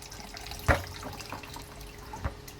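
Water drains quietly out of a plate chiller after sanitizing with Star San, a faint trickle broken by a couple of soft drips and splashes.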